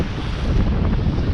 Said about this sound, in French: On a encore un bon vent, toujours un bon vent.